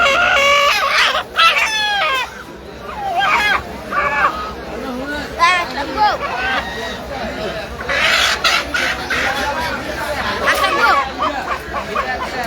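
Native chickens and roosters at a village duck and chicken market cluck and crow loudly close by, under the busy talk and bargaining of the crowd.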